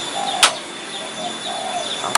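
A tekukur dove takes flight with soft, rapid wing flaps, joined by faint bird calls and two sharp clattering bursts in an outdoor setting.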